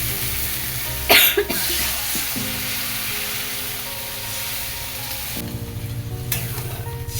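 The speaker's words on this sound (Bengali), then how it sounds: "বন্ধুরা কষানো হয়ে গেছে এবার জল দিয়ে দেবো" Water splashes into a pan of fish curry with potato and eggplant, a brief loud pour and hiss around the one-second mark, then a steady sizzle and bubbling simmer continues close up.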